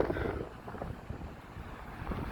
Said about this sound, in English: If there's a lot of wind noise